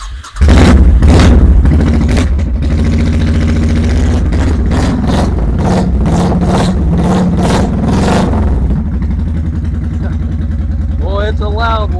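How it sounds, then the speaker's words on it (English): A motorcycle engine cranks and fires, then settles into a loud, close, throbbing run with repeated throttle blips and revs, while a voice speaks briefly near the end. "Alright, I got to pull a kickstand up on this one in order to start it."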